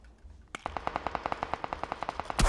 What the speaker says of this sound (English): Okay, I'm getting shot by like multiple teams.